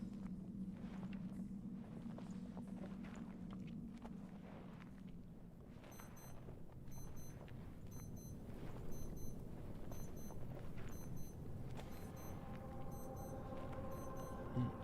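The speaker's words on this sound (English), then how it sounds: "I think my watch alarm's gone off." A Casio wristwatch alarm beeps in short, high double pips, repeating about once a second for several seconds over a steady low background hum.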